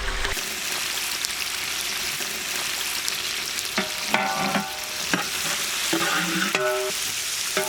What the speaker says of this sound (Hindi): इमीडिएटली हम लोग इसमें स्लाइस्ड ऑनियंस ऐड करेंगे।